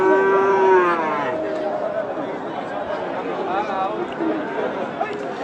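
A crossbred bull calf at a rural cattle market in Khochabari, Thakurgaon lets out a long low moo, with crowd chatter and a nearby voice talking over the busy market din.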